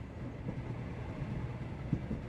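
Train rolling along in the Sherlock Holmes The Awakened video game, a steady low rumble with faint rhythmic clanks and one brief thump near the end, continuous and moderately quiet.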